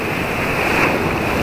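Loud, continuous wash of rough ocean surf and breaking waves heard from a fishing boat out at sea, mixed with gusting wind buffeting the microphone; no voices.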